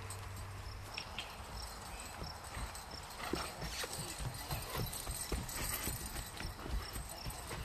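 Horse hooves clip-clop steadily on the ground at a brisk, even rhythm, with outdoor ambience and faint insect chirps.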